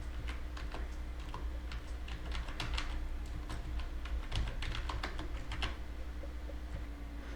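Keys clatter on a computer keyboard in a steady, fairly close burst of typing over a low background hum, with no voices.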